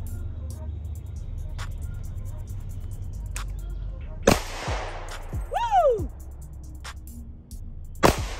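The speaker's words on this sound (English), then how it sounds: "my first shot out, I'm happy with that" A Sig P226 Legion pistol chambered in .357 Sig fires at an outdoor range, giving two sharp, loud, close reports separated by a few seconds, with a short sliding whine and low background hum between them.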